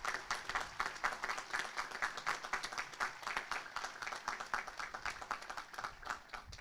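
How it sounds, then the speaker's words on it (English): Crowd applause at an outdoor Memorial Day ceremony in Lake Bluff, honoring Eagle Scouts and the Lake Forest High School Band; steady, fairly faint clapping from many hands sustained throughout, with no voices over it. "Let's give them a round of applause for their participation today."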